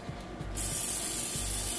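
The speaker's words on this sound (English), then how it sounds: "I'm gonna give it a little bit of a spray just because I don't want it, anything to get stuck" A Misto oil sprayer mists oil onto a sandwich in a kitchen, a short quiet rubbing start followed by a steady, close, continuous hissing spray that runs to the end.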